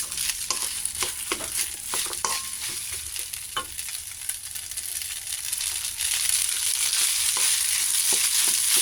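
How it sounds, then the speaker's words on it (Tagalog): Leftover cooked rice is fried in a pan, sizzling steadily while a utensil stirs and scrapes it in quick, irregular strokes close up, with no speech. "Haluin natin yan"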